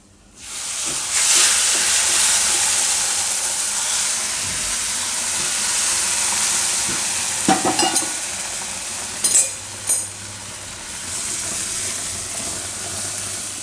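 Milk poured into hot semolina halwa with coconut sets off a loud, steady hissing sizzle that fills the pan, with a few sharp bursts of bubbling and spoon clatter near the end.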